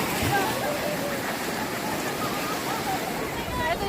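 Strong ocean waves at the Deadpool on a Pangasinan beach give a continuous, loud roaring wash of surf, while people talk over it.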